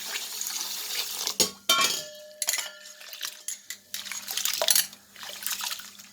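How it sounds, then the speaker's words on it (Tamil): Water is poured onto cumin samba rice in a kitchen to soak it, making splashy bursts and uneven gurgling pours. Clinks of a metal vessel break in between, close and fairly loud, with no talking. "இப்போ சீரக சம்பா அரிசிக்கு தண்ணி ஊற்றிடலாம், ஊறட்டும்."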